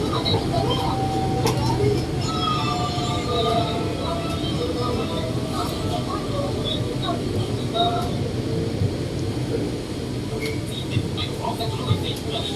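A metro train sits at its terminal station in Bangkok while a constant rumble of train and station machinery hum fills the space, with faint announcements and voices in the background.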